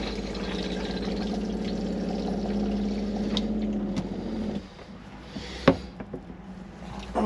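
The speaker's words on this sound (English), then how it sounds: "So what we will do, we'll flush the toilet." Motorhome cassette toilet flushing, with a steady rush of water filling the pan for about four seconds, then fading into quieter trickles and a few sharp clunks of the flush mechanism.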